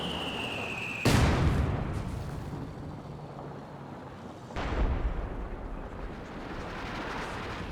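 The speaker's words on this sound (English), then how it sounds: "The camouflage commandos eventually get the job done there with their gammon bomb" Two heavy blasts of a gammon bomb in Company of Heroes 2, the first sharp and loud, the second about three and a half seconds later, each trailing into a low rumbling decay over steady battlefield noise.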